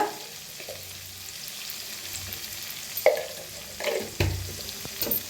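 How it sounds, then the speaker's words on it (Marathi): Onion and tomato hit roasted masala in a pan, giving a low, soft sizzle with a few sharper stirring scrapes and bursts toward the end, all fairly quiet and close, with no talking. "कांदा टमाटो त्याच्यात टाकूया"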